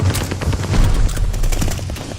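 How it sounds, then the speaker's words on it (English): Mortar shells exploding during a Call of Duty: Vanguard match, heard as a loud, dense, rumbling barrage of blasts and rapid gunfire with no clear pauses. "They're sending mortar shells."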